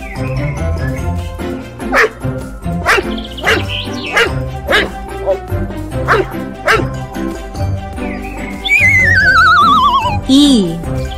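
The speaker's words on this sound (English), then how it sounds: "D for dog." A cartoon dog barks in a children's alphabet nursery rhyme, a string of short, evenly spaced woofs set against cheerful music, with singing voices around them.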